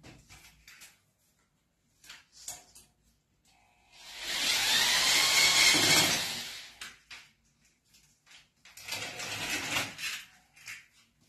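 A power drill drives a screw into a wall to mount a sliding door. The bursts are loud and whirring, about two seconds each, with a longer one early and a shorter one later. Quiet gaps between them hold small scrapes and clicks.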